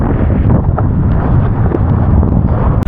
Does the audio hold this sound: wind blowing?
yes